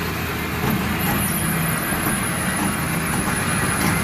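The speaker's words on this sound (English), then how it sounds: "it's that exhausting steam that creates the chugging sound you hear when you see a steam locomotive" A steam locomotive, No. 630, rumbles and hisses continuously, its exhaust steam making a dense, steady chugging roar nearby with no voices.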